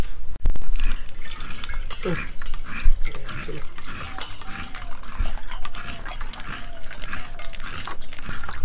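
Packaged milk poured into a cooking pot in a home kitchen, a soft continuous liquid trickle with a few light clinks, close and moderately loud.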